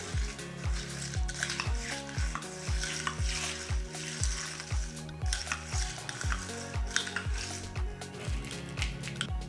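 A caipiroska cocktail made with vodka being stirred in a glass, a steady run of rhythmic clinks and scrapes from a spoon against the glass and ice, with no talking.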